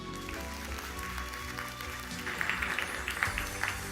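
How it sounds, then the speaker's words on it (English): An audience applauds at a launch event, steady clapping that swells and grows denser toward the end, moderately loud. "A round of applause."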